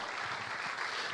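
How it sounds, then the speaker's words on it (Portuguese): Congregation at a Sunday church service claps for the Lord, a brief steady wash of applause heard at moderate distance. "Dê uma salva de palmas ao Senhor"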